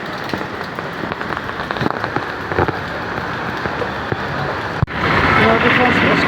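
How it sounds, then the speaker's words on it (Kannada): Heavy monsoon rain pours down in Mumbai, a dense, continuous hiss of drops striking surfaces that swells louder near the end. "ನೋಡಿ ಫ್ರೆಂಡ್ಸ್, ಎಷ್ಟೊಂದು ಮಳೆ ಇದೆ. ಮುಂಬೈ ಜಾಸ್ತಿ ಮಳೆ ಫ್ರೆಂಡ್ಸ್."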